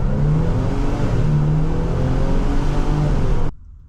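A 2022 Ford Police Interceptor Utility EcoBoost accelerates hard, a loud, close engine roar held steady for several seconds before cutting off abruptly.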